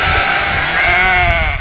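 A sheep bleats once, loud and close, a long wavering cry lasting over a second and standing alone as an inserted sound effect.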